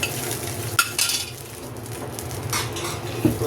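Cornflour stirred into melted ghee in a pot over low heat for Karachi halwa, giving steady close scraping strokes over a soft sizzle, with a few sharper utensil knocks and no talking.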